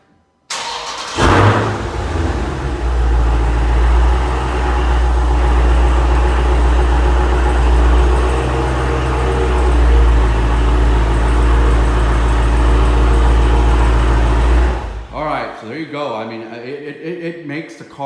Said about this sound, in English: let me do a quick little startup so you guys can just kind of hear the monster roar